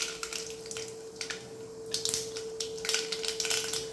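Mustard seeds crackling and popping in hot oil in a kadai, a faint scatter of quick irregular pops over a steady hum.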